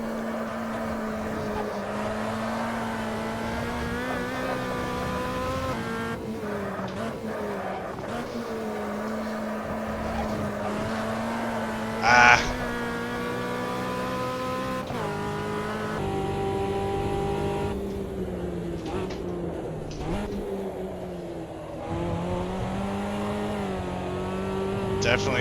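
Copa Montana race car in Automobilista driving at speed, its engine a steady, close droning whine that shifts pitch through gear changes, with a brief sharp burst near the middle.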